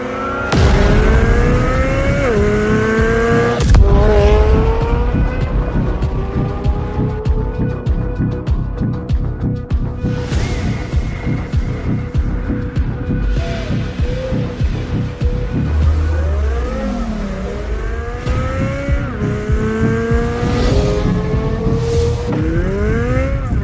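A Chevrolet Corvette C8 with carbon fiber wheels accelerates hard, its engine climbing through repeated gear shifts in loud, close sweeps, briefly easing off before pulling again.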